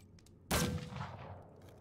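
A single gunshot in Wasteland 3, one sharp, loud crack followed by a decaying echoing tail that fades over about a second, with quiet before it.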